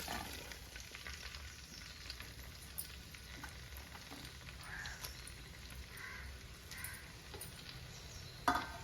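Four chopped onions go into hot oil in a home kitchen for a Kerala-style crab roast, settling into a steady, soft sizzle with a few brief clinks, fairly quiet and even throughout.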